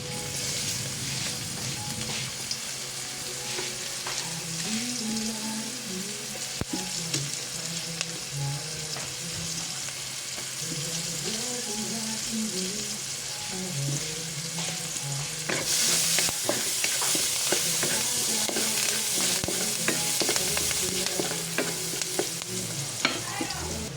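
Onions frying with garlic in a pan for pork giniling, a steady close sizzle under repeated scraping stirs, growing brighter and louder toward the end, with no voices.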